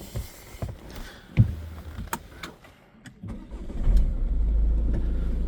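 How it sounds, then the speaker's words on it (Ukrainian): A 2019 Renault Scenic IV with a 1.7 Blue dCi diesel engine turns over with a few clicks and a brief crank, catches quickly, and settles into a steady, close idle with no talking. "Двигун заводиться з півоберту."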